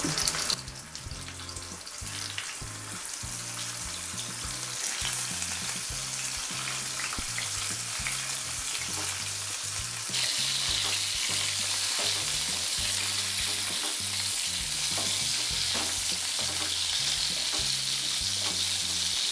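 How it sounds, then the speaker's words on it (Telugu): Boiled bitter gourds frying in hot oil in a pan on low heat, a loud continuous sizzle broken by frequent scraping and stirring clatter and a brief louder burst at the start, with no voices. "ఇది నూనెలో వేశాక సిమ్లో పెట్టుకుని వేయించుకోవాలి"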